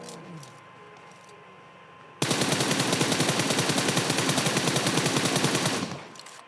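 Rapid automatic gunfire in the mobile battle royale game PUBG Mobile: after a quiet stretch a sustained burst of evenly spaced shots rings out loud and close for about four seconds, then cuts off.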